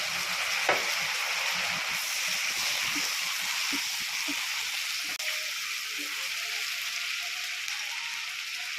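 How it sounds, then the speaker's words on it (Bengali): Continuous sizzling from fish frying in a pan for chili fish as a spoonful of soy sauce goes in. The hiss stays steady throughout, with a few soft clinks and stirring noises. "এবার দেখুন সয়া সসটা দিয়ে দিচ্ছি সয়া সসটা আমি এক চামচ মতো দিয়েছি"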